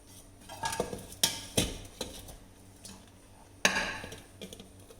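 A cooled oven-free chocolate cake made with Oreo biscuits is turned out onto a plate, giving a few quiet, close clinks and knocks of pan and plate spaced irregularly, with no talking.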